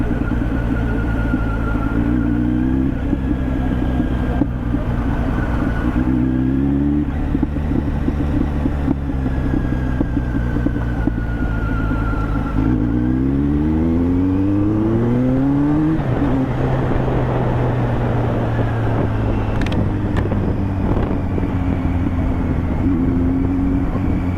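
A Kawasaki Z900 motorcycle is ridden along a valley road, its engine droning close and loud with repeated rising pitch sweeps as it revs through gears, under steady wind rush.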